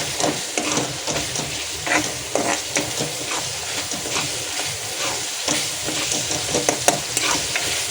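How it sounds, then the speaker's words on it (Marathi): Tomatoes coated in masala are stirred in a hot frying pan, giving a steady sizzle and hiss broken by repeated scraping strokes of the spoon, close and alone. "ह्याला मस्त मिक्स करून घेऊया, एकजीव करून घेऊया, जेणेकरून आपले जे टमॅटो टाकलेले आहेत ना त्याला आपण मसाला व्यवस्थित लावून घेऊया"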